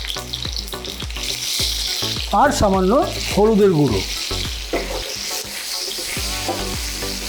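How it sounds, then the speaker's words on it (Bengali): Potatoes fry in hot oil with a little salt and turmeric, sizzling loud and steady throughout while someone talks over the crackle. "তেলটা গরম হয়ে গেছে, তাহলে প্রথমেই আমি আলুটাকে ভেজে নিই।"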